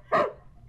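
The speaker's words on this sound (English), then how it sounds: "He put shoes on my dog. And the dog's going nuts." One sharp, close dog bark from an agitated dog wearing shoes, loud and brief, then quiet room tone.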